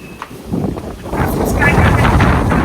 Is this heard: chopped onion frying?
no